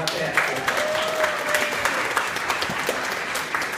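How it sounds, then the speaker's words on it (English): Applause from an audience at a YMCA open house, a moderate wash of clapping hands with scattered sharper claps and a faint voice underneath. "everyone give a big round of applause for the folks who are joining us from online"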